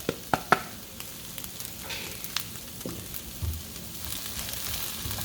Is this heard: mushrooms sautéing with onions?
yes